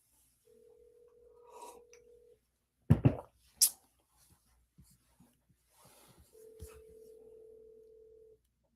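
An outgoing phone call rings through, with two long steady ringback tones separated by a short burst of clatter and handling noise, and no talking.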